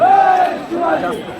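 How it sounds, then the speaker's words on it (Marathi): A large crowd at a Shivrajyabhishek festival celebration shouts together in two loud swelling cheers, dense and close. "गर्दी झाली आहे"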